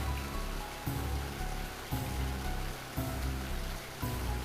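Looping rain from the video game Pier Solar and the Great Architects, a dense, even patter that pulses in short regular cycles, with no voices.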